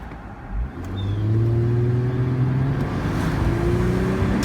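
The engine of a 2007 Mercedes-Benz CLK350 Cabriolet accelerates on an open-top test drive, a steady loud hum rising in pitch through the gears under wind noise, with no talk.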